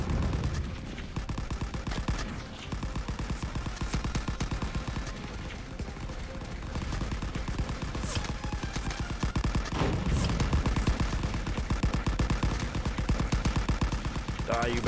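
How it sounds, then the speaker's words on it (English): Gunfire crackles throughout a World War 1 battle in the video game Rising Front, with rapid repeated shots and heavier bursts layered continuously over a dense, loud combat din. "Some gunfire back here."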